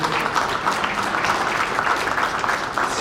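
An audience at a formal gathering applauds a camerawoman from the Congolese broadcaster RTNC, continuous dense clapping at a steady level for the full few seconds, with no voices over it.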